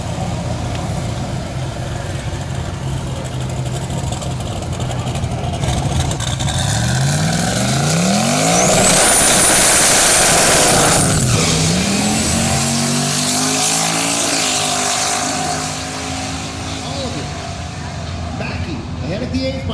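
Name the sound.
drag race cars racing down the track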